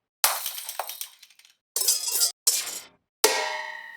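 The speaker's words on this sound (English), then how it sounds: "metal and glass sounds" Metal and glass hit samples from the Comakid HYPER-REAL Ableton pack: four separate sharp crashing impacts with short shattering, clinking decays, each cut off by silence, played cleanly with no voices.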